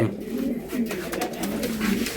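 Racing pigeons coo close by in a low, repeated throaty rhythm, several soft rolling calls across a couple of seconds.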